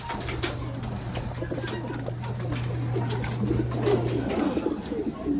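Pigeon cooing and bird activity around a loft as racing pigeons return during a 139 km derby lap in Mulanay, Quezon, with a steady low coo-like hum under faint background voices.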